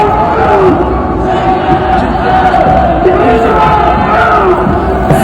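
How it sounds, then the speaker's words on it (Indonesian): A large protest crowd on a street in Korea shouting and chanting together, a loud, dense, continuous roar of many voices close by. "Mereka teriak-teriak turunkan harga cilor"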